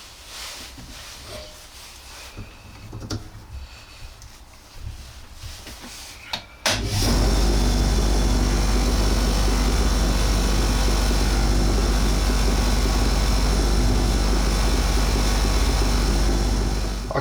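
A polishing machine with a fine buffing wheel spins up abruptly and roars loud and steady while buffing bike parts, after quieter workshop handling and a few knocks.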